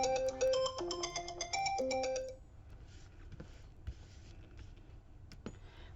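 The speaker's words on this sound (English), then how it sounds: "That was my phone." A mobile phone ringtone plays a bright, repeating electronic melody for about two seconds during indoor paper crafting with glue, then cuts off and leaves quiet room noise with a few faint clicks.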